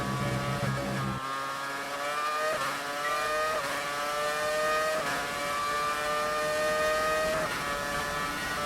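A modern F1 car engine from F1 2019 screams with steady harmonic whine, climbing in pitch through several upshifts, each marked by a brief dip before rising again, loud and continuous throughout.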